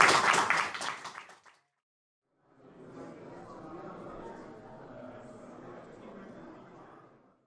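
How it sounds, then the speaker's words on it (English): An audience at a University of Edinburgh lecture on EEG connectivity applauding at the end: a loud burst of clapping that quickly fades to silence, followed by a quiet, low murmur. "Let's give a huge round of applause."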